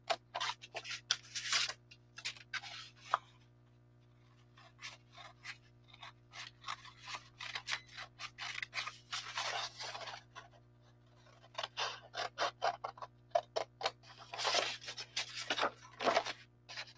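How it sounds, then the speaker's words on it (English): Sewing scissors cutting paper or cardboard during costume making, with repeated short snips and longer rasping cuts in irregular bursts between pauses, close up over a steady low electrical hum. "once you cut paper or cardboard with your sewing scissors"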